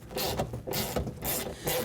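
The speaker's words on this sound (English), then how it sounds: "the two bottom bolts on these guides, we're going to go ahead and remove these completely" Bolts being removed from the lower window regulator guides inside the door of a 2010–2017 Chevy Equinox, giving a close, steady mechanical ratcheting rasp with short pauses between bursts of turning.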